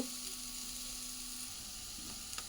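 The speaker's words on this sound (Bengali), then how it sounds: "একটু সময় ফ্রাই হতে দেব, হালকা ফ্রাই হওয়ার জন্য রেখে দেব" Chow mein frying in a hot pan, a soft, even sizzle and crackle that holds steady and low in volume throughout, with a few faint clicks of stirring and no voices.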